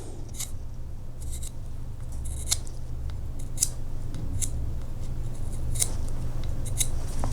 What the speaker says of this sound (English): sharpen it with a sharp chisel